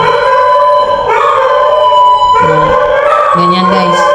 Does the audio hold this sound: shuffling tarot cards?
no